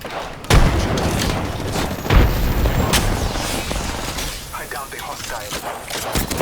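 Gunfire in the video game Apex Legends: sharp bursts and booming shots crack out irregularly over a rumbling battle bed, while players chat and call out over the shooting.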